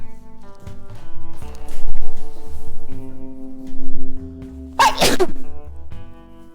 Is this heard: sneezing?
yes